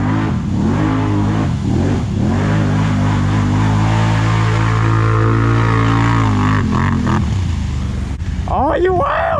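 A four-wheeler ATV roars loudly and steadily close by, its engine revving hard and holding a throaty drone, with excited voices shouting over it at the end.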